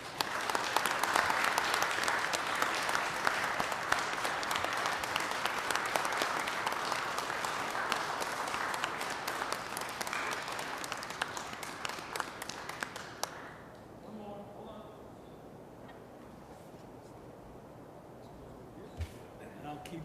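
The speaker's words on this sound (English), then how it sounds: "Please join me in giving them a round of applause." Applause for award recipients at a county board meeting, a steady wash of many hands clapping in a room for about thirteen seconds before thinning out into scattered claps and quiet room noise.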